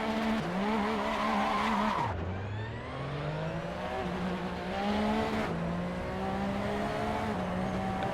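A Porsche 911 RSR race car engine screams through the gears on the Laguna Seca track in Assetto Corsa, with rising revs, sharp downshifts and steady loud, close engine tone throughout.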